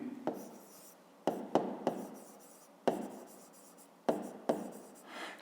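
Pen strokes on paper as a fifth-grade maths exercise is worked out, a series of short scratchy scribbles in several separate bursts, close and fairly quiet, with no talking.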